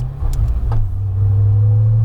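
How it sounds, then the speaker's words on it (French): A Corvette ZR1 sports car with a 647 hp engine on the La Ferté-Gaucher race track, its loud, deep, steady engine drone building in intensity after a couple of brief clicks. "Aux commandes de la Corvette ZR1 pour 5 tours de piste sur la Ferté-Gaucher"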